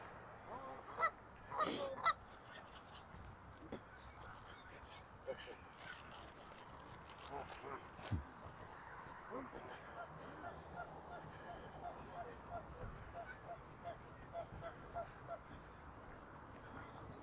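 Geese honking near a lake in a city park, short bursts of calls rising out of steady outdoor background noise, several loud honks early on then scattered fainter ones, with people talking nearby.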